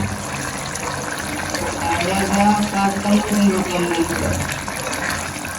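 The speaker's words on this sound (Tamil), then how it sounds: "இங்கே பாருங்க கறி என்ன கொதிக்குது" Curry bubbles and gurgles steadily in a pot close by, a continuous simmering sound with a faint voice in the background.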